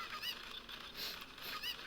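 Cucco chickens in Zelda: Ocarina of Time squawk in repeated honking bursts, three or four rising calls over a steady game backdrop, fairly clear with no talk.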